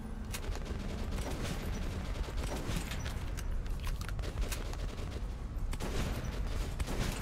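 Gunfire in the shooter game Metro: Last Light Redux, heard as rapid, dense bursts of shots crackling steadily throughout, fairly faint and distant in the mix, with no voices over it.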